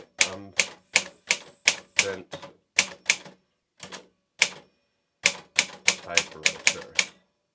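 Keys struck on a Triumph typewriter produce sharp, close mechanical clacks in irregular runs, with a brief pause partway through, and no voice over them.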